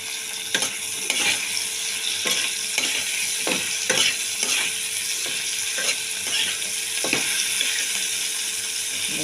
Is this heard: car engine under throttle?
no